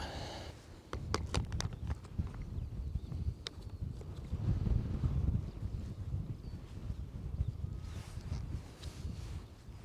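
Wind blows steadily outdoors beside a wall, producing a continuous low rumbling buffet across the microphone with a few faint clicks and knocks, and no voices.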